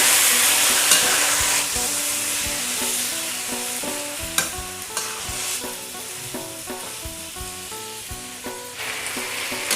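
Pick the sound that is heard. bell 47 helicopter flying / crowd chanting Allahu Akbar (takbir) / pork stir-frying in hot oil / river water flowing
pork stir-frying in hot oil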